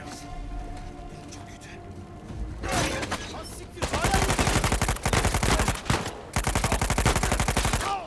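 Machine gun fire in the Uncharted 4 video game, arriving in long rapid bursts of loud gunshots after a quieter stretch of game ambience, with a brief pause between bursts.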